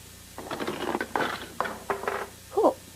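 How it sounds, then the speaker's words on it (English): A ball rolls down a track in a homemade Rube Goldberg machine and knocks into a series of blocks, making a run of light clattering knocks and rattles followed by a brief sharper clack near the end, close and alone. "we got this ball to roll down this track, which hits these blocks and makes the hammer fall into the toothpaste tube"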